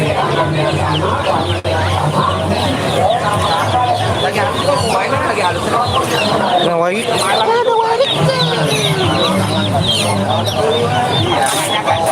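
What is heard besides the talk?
ayam ketek bantam chickens clucking at market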